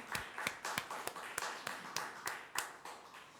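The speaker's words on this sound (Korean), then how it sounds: "그래서 우리 다시 한번 우리 천안 상형교회를 인도하신 하나님께 영광의 박수로 함께 영광 돌립니다." A church congregation at a twelfth-anniversary thanksgiving Sunday service claps in a slow, even rhythm, about a dozen distinct claps spaced roughly a quarter second apart, faint and unaccompanied by talk.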